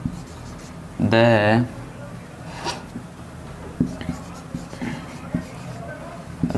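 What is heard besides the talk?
writing an example by hand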